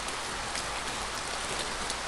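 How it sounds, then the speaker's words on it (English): Rain pours steadily in a park, a dense, even hiss of falling water with no pauses, fairly soft and alone without voices. "The rain poured too soon, you couldn't even leave the park."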